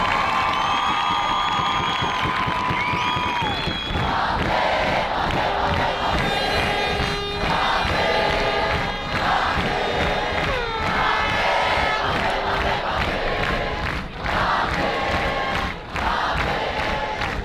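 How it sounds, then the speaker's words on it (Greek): An outdoor concert audience at a festival on Chios cheers, whoops and claps loudly for the musicians, a dense sustained crowd roar with shouts rising above it throughout. "Ένα δυνατό χειροκρότημα."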